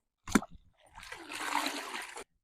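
A short splash as a washing cloth drops into a bucket of soapy water, followed by a sloshing, swishing stretch of liquid movement close by.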